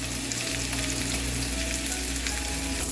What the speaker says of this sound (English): I'm going to try to turn it on some of the sides so I can sear it more